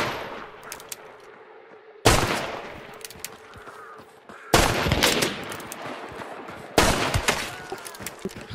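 Three sharp, loud gunshots ring out in a video game at even spacing, each followed by a lingering decaying echo across an otherwise quiet backdrop.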